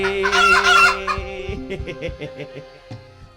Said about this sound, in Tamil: விரட்டி பிடிக்கையில என்னதான் சொல்லுச்சா வெள்ள கோழி